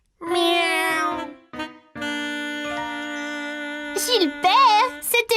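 A cartoon cat meows in a long, drawn-out tone, then breaks into shorter wavering mews, loud and close, with a voice mixed in among the cries.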